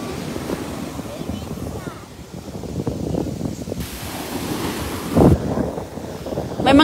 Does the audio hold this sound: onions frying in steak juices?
no